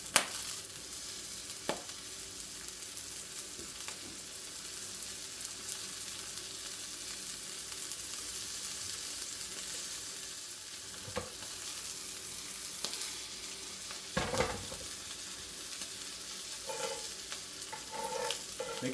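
Slider patties sizzling in a preheated cast iron pan with a little butter, a steady crackling fry broken by a few clinks and scrapes, no one speaking.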